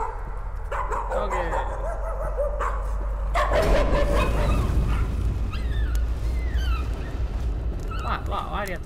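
A dog barking in the horror game Layers of Fear, several sharp barks and yips that grow denser midway, mixed with a voice talking over them.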